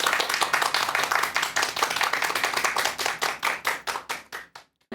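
A lecture audience claps together, a dense burst of hand claps that thins into scattered individual claps and stops near the end, fairly close and clear with no talk.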